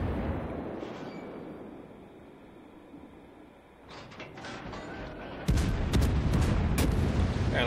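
Big naval guns boom in the World of Warships video game, with distant rumbling salvos giving way to a loud, sustained barrage of heavy firing near the end.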